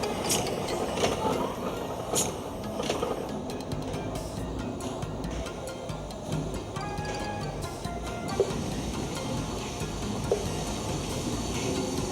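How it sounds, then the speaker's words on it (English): Steam and gas engines run on display in a museum's Power Hall, a dense, steady mechanical clatter of ticking gears and ratcheting parts over a constant low rumble, echoing in a large space. "Steam and gas engines on display in the museum's Power Hall were developed in all sizes and shapes and styles."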